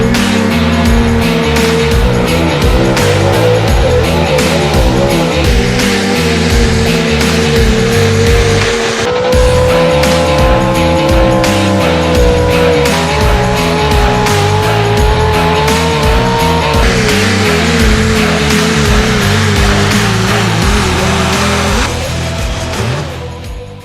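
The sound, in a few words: small block high output trucks at truck pull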